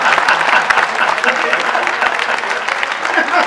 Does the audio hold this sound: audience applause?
yes